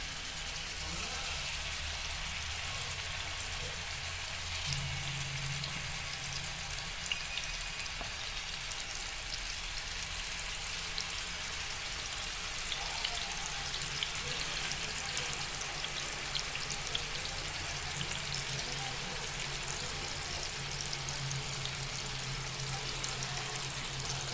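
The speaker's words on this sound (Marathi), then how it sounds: "आता इथे आपण चिकन फ्राय करायला टाकले आहे" Continuous crackling sizzle of chicken for shawarma frying in hot oil in a pan, steady and close throughout with occasional louder pops.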